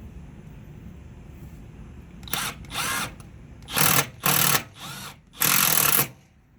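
A power drill drives screws into the door card of an 1986 Mazda RX-7 FC3S, with several short whirring bursts of rising and falling motor pitch separated by pauses, loud and close with no talking.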